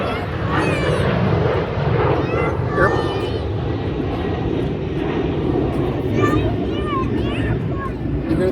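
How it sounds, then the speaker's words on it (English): An airplane passes over an airport's north parking lot, a steady broad engine roar holding through the whole stretch while a child and adults chatter nearby. "You hear the airplane?"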